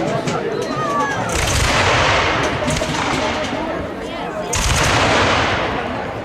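A company of muskets fires in volleys at a reenactment of the Battle of Guilford Courthouse, giving two loud crackling rolls of overlapping shots with sharp individual reports, and a narrator's voice talks over the firing.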